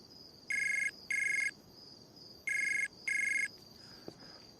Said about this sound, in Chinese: 姜先生，哎呀，总算等到您电话了。